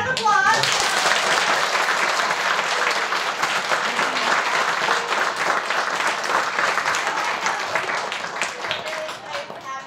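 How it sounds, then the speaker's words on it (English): A big round of applause at a school assembly with a former Patriots player, dense sustained clapping filling the room for about ten seconds, with faint voices underneath. "can you give a big round of applause?"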